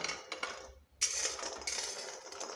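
Dried dates are stirred in an iron kadhai, giving quiet metallic scrapes and light clinks close by, with a brief pause before the stirring resumes.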